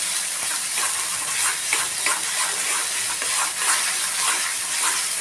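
Tomato puree being stirred into frying masala for cashew curry, a steady close sizzle with scraping and stirring textures running evenly throughout, no voices.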